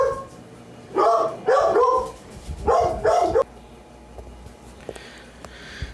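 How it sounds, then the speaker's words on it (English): An agitated dog barks loudly nearby in a quick series of four or so sharp barks, then falls quiet, leaving a faint background hum. "The dog is going crazy."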